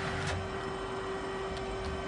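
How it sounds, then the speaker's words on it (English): The Z axis of a Daewoo 150G CNC gang lathe with a Fanuc control moves on rapid traverse, a faint, smooth steady hum with a thin, even tone and no knocking. "Run the axes here on rapid so you guys can hear what they sound like."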